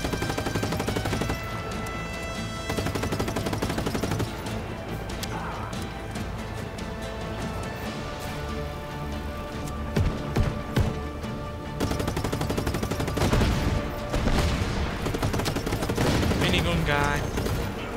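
Minigun fire in the video game Just Cause 3 during a military base assault: dense, continuous rapid gunfire and explosions filling the scene for most of the stretch, with brief lulls and busy game effects around it.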